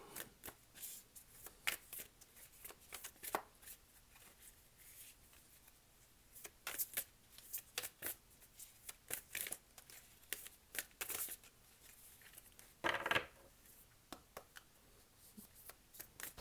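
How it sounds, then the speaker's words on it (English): Tarot cards being shuffled, with soft repeated riffles and slides coming in short bursts across the whole stretch, quiet and close, with no voices. "Two or 3 cards, please."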